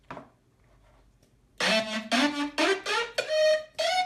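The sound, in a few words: synth with multiband compressor and Camel Crusher processing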